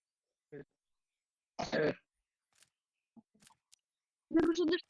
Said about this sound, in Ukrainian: Так, хтось там кашляє.